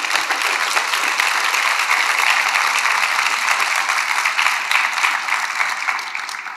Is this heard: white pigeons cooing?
no